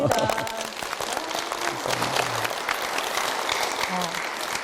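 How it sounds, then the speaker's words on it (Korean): A church congregation applauds during a Korean church program, a sustained wash of clapping that carries on for several seconds while a voice speaks over it. "박수 한번 쳐야 될 것 같아요."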